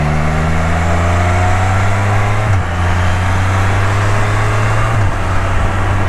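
A car engine hums steadily at low pitch while driving an Ohio winding road, its tone dropping abruptly twice as it downshifts, loud and close with no talking.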